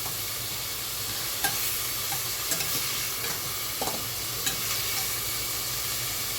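Meatballs of pork, chicken or tofu stirred through a yellow curry and coconut sauce in a pan, a steady low sizzle with several soft scraping clicks of the spoon spread across the stretch, no talking.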